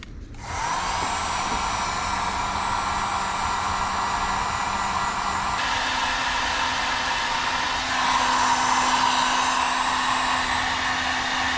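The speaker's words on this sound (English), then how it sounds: "Now we're gonna get our heat gun. We'll heat these up." A heat gun blows steadily on heat-shrink tubing over wires, giving a loud, continuous whooshing roar with a constant hum whose pitch shifts slightly partway through, near and uninterrupted.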